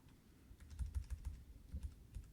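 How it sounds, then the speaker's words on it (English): Computer keyboard arrow keys are tapped in quick, irregular clusters of soft clicks, close and fairly quiet, with no voices. "I'm going to just nudge it down with my arrow keys"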